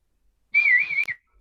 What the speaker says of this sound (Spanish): Por favor, los chiflíos.